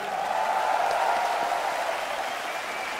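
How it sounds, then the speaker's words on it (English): Crowd applauding and cheering at a Counter-Strike PGL Major quarter-final esports match, a steady dense wash of clapping and crowd noise filling the arena, sustained and fairly loud with no clear talk. "Thank you guys for cheering for us."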